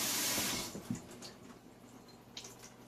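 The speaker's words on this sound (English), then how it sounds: "So I'm just going to rinse it." Tap water runs briefly into a sink while store-bought coleslaw is rinsed, a soft splashing rush that fades into faint drips and wet squishes, close and quiet with no talking.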